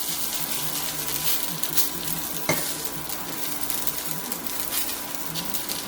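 Salmon patties fry in a cast iron skillet with a steady, dense sizzle and crackle, broken by one sharp tap near the middle, with no voices present.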